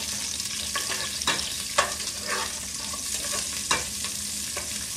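Chopped garlic frying in a pan for ginisang patola with miswa, a steady sizzle broken by clicks and scrapes of stirring, close and fairly loud.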